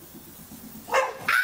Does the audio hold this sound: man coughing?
no